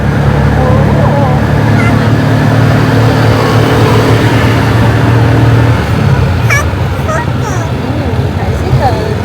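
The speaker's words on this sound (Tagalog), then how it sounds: "Tricycle." A motorized tricycle engine hums low and steady in busy Manila street traffic, close and loud for several seconds before fading into the surrounding road noise, with voices nearby.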